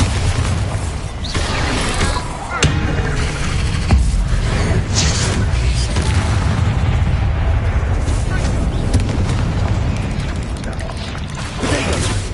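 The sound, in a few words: Bombarda explosion spell cast in a wizard video game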